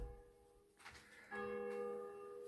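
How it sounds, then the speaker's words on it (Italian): A church bell rings in slow, resonant strikes, its tone lingering and humming between hits, fairly distant and alone. "Anche le campane accompagnano questo ricordo."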